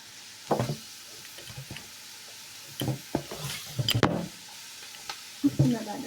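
Food sizzling and frying in a pan, with the soft hiss of oil under intermittent stirring and utensil knocks, quiet and close while someone talks over it.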